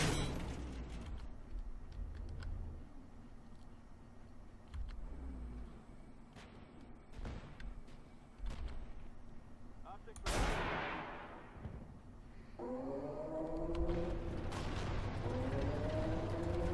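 A Type 98 main battle tank in Armored Warfare fires an ATGM missile, giving a sharp, heavy launch blast followed by a rushing whoosh, set against a steady engine rumble and scattered distant gunfire.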